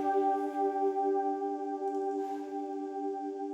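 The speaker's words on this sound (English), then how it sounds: "this pad, which is also a diva pad" Sustained Diva synth pad in a melodic house track, holding the same stacked chord notes as a smooth, steady, continuous drone with no breaks.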